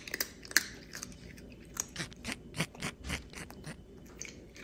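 A cat crunching and chewing dry food up close, a quick irregular run of crisp bites and gnashing clicks with soft pauses between, no voices.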